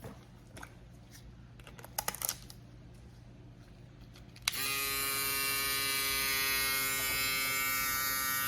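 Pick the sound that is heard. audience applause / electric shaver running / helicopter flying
electric shaver running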